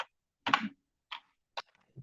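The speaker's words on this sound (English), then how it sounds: "And I'm going to just start typing." A few isolated keystrokes on a computer keyboard, four or five sharp clicks spaced apart in an otherwise quiet room, close by.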